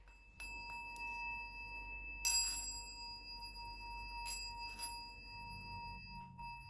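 A small chime rings with a clear, sustained metallic tone. It is struck again partway through, and each ring hangs and slowly fades over a low room hum.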